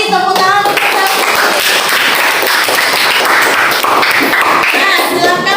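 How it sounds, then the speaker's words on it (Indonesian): A classroom erupts in lively applause for a student's answer, with dense, rapid clapping from many hands that stays loud and continuous throughout. "Tepuk tangan untuk Selfie"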